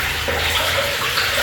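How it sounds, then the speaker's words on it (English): A toilet flushes in a house during drain and sewer cleaning, with the sink and tub also running, a loud continuous rush of water filling the short moment. "Matt's flushing the toilet."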